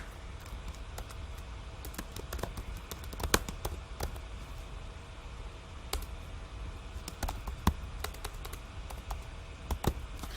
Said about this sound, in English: all you got to do is type in here